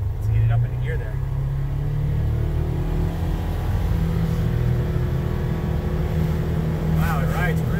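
A 2020 Polaris Ranger Crew XP 1000 NorthStar Edition UTV drones with a steady, low engine rumble while riding, heard from inside the cab, with a person talking briefly over it.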